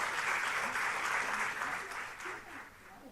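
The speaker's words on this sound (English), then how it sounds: "So please give them a big round of applause" An audience applauds startup panelists at a public dialogue event, a dense, even wash of clapping that slowly fades over a few seconds.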